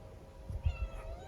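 A cat meows softly a few times close by, short faint calls over a quiet background while it is being called to food.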